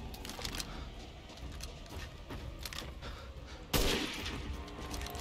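Gunfire in Resident Evil Village inside a factory, a dense stream of shots and a sharp louder burst near the end over a constant noisy game backdrop.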